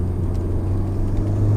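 A 2017 Honda Civic Type-R rounds a hard right turn at moderate speed, its engine giving a steady, loud low drone and rumble inside the cabin with no talking.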